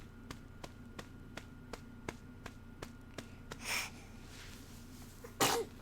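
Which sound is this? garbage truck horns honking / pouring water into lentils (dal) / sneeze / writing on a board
sneeze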